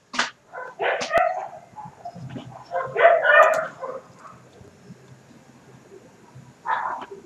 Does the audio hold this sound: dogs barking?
yes